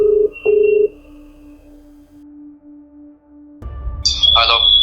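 A telephone rings back while a call is being placed: two short tonal pulses, then a long steady tone, before a voice answers near the end.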